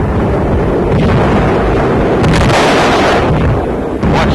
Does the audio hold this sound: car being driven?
no